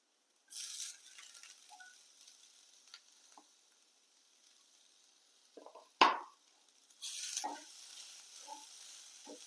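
Onions sautéing with grated coconut in a pan for a flattened-rice upma, a faint sizzle with intermittent stirring scrapes and one sharp clatter midway, quiet and close.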